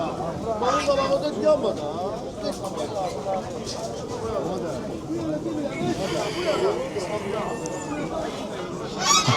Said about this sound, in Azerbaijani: Kənd toyuqları.